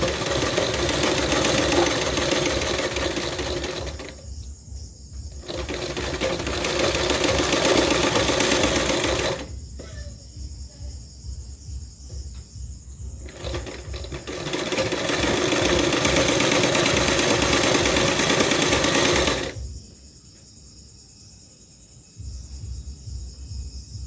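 A sewing machine stitching a salwar drawstring, running in loud steady whirring bursts of several seconds each, broken by short pauses and a quieter slow run near the end.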